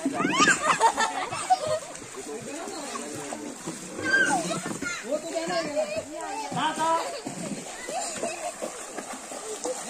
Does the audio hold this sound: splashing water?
yes